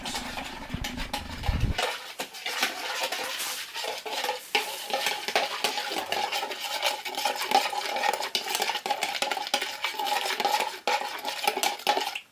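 Bread ingredients, including melted butter, are briskly stirred and scraped around a bowl with a utensil, a busy, continuous clattering and swishing close up for about twelve seconds.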